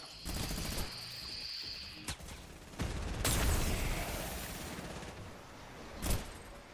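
Video game gunfire in Fortnite, with bursts of rapid shots and sharp cracks, some muffled and some louder, ringing out in several volleys over a few seconds.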